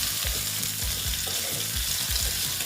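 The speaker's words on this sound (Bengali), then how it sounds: "আবার একটু নেড়ে চেড়ে নিচ্ছি।" Sizzling oil in a pan as cut drumstick (katoa data) stalks are stirred and fried, a steady loud hiss broken by scraping turns of the spatula, with no talking.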